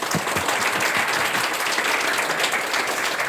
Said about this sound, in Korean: 교수님 다시 한번 박수 부탁드리겠습니다